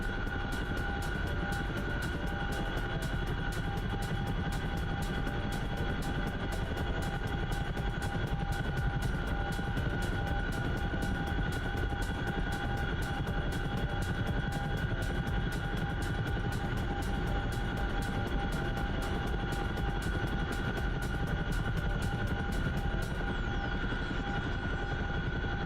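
Aircraft engine in the flight simulator DCS World, a steady, loud droning roar with a constant hum throughout, no breaks or changes in pitch.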